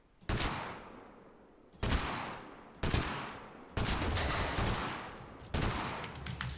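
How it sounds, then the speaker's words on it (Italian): AK-47 rifle shots in the video game Fortnite crack out in five separate loud bursts at irregular intervals, each blast followed by a fading rumble and echo. "Sparo con la K47 da 100 metri"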